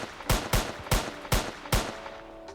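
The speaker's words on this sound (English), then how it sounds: "as you can see, it is firing the gun" Gun firing in a Roblox gun system, five sharp loud shots spaced roughly a third of a second apart, each a crisp crack with a short decaying tail, no voices.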